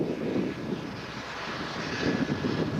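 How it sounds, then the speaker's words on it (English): On a windy flight line, the engines and auxiliary power units of C-5 Galaxy transport aircraft produce a low, steady roar mixed with gusting wind noise on the microphone. "it's going to be a little bit noisy due to the wind and other engines and APUs going on around us"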